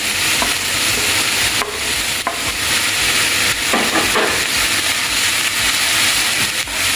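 Close, loud, continuous sizzle as onions and green chillies sauté in a pan for fish patties, with occasional scraping stirs cutting through the dense hiss.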